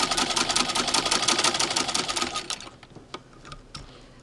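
A motorized Singer 15-88 sewing machine driven by a foot pedal runs in a fast, loud mechanical whir for about two and a half seconds, then stops and gives only a few brief clicks and faint knocks.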